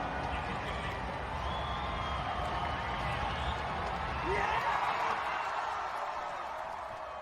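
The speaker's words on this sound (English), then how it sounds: "Senior dog finishes last but gets the biggest cheer" A crowd cheers and shouts steadily for a senior dog finishing last in a dog race, a dense wash of voices that swells briefly near the end.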